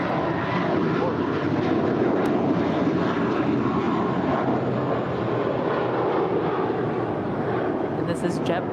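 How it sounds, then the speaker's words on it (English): JetBlue Airways A321 departing LAX for Newark, its engines producing a continuous loud roar throughout, with a voice talking over the noise. "this is JetBlue Airways 1374 heading to Newark, New Jersey, just outside of New York. It's an A321"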